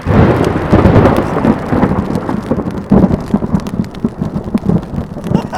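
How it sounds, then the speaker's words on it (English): A deep, rolling thunderclap rumbles through a storm on the Laurel Highlands Hiking Trail, with rain pattering steadily, loud and sustained before easing into softer rumbles. "And then just the thunderclap afterwards was enormous."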